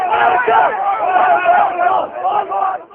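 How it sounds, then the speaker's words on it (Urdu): Roadside crowd shouting Go Nawaz Go slogans in Gujranwala, loud rhythmic massed voices chanting close by for a few seconds. "سڑک پر کچھ کھڑے افراد نے گو نواز گو کے نعرے لگانے شروع کر دیے"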